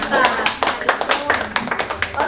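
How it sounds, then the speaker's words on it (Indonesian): Classroom applause for a student during a microteaching lesson: a short burst of uneven, close hand claps from a small group, with a few voices audible alongside. "tepuk tangan dulu untuk Calista."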